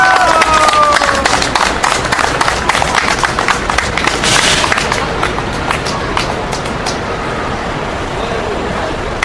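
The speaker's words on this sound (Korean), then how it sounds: "큰 박수 부탁드립니다." Outdoor rally crowd for an 18th presidential election nullification lawsuit group, clapping in a dense, loud wash of many hands that holds steady and then eases slightly, with traffic-like rumble underneath and some voices mixed in.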